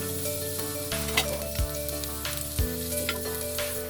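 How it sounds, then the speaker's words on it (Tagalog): Garlic and onion sauté in a pressure cooker for chicken feet adobo, a steady close sizzle punctuated by scraping stirs and a few clanks of the spoon against the pot, with no talk. "Nasutin ko na yung bawang at sibuyas."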